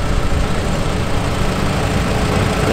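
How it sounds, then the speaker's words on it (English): Classic Farmall offset tractors from International Harvester run in a parade, their engines making a continuous, loud low rumble close by. "Here's some classic Farmall offset tractors."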